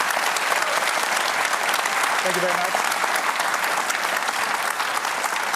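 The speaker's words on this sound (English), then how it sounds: "Clap quickly because we're running out of time." Audience at a Q&A panel bursts into steady, dense applause that holds evenly throughout, with a brief spoken thanks over the clapping.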